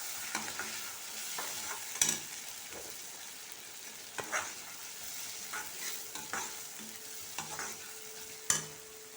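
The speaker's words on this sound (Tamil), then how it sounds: "ரெண்டு பெரிய வெங்காயம் பொடியாக நறுக்கி போட்டு வதக்கிக்கணும்" Finely chopped large onions sautéing in a pan for chicken curry, a steady sizzle broken by a few sharp scraping stirs of a spoon, close and clear with no talk.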